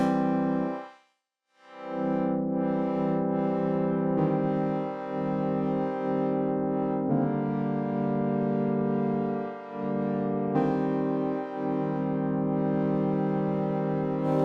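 A sustained, buzzy synth chord plays alone, its tone thinning and brightening as the low end is filtered away, with brief dropouts between phrases.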